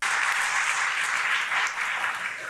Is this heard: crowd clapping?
yes